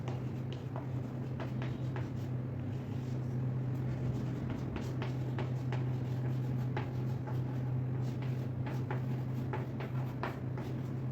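Marker or chalk scrapes across a classroom board during a Hindi-medium biology lesson, making short scratchy strokes in an irregular rhythm over a steady low hum and room noise.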